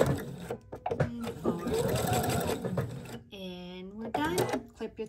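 A household sewing machine back stitches the seam of a lined box-bottom drawstring bag in close, loud whirring bursts with short pauses and a whining reverse section, while a person talks throughout.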